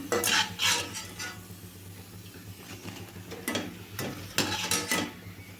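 Puris for homemade pani puri frying in a pan, with scattered bursts of hot-oil sizzle and scraping, clinking utensil stirs at close range, no talking.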